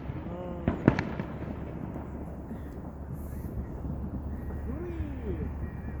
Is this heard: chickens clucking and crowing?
no